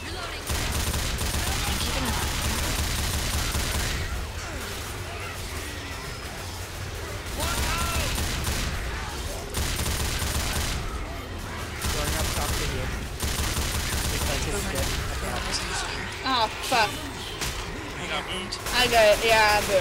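Sustained gunfire rattles through a firefight in the video game Dead Air. The shooting is loud and nearly constant, with brief breaks, and voices talk over it throughout.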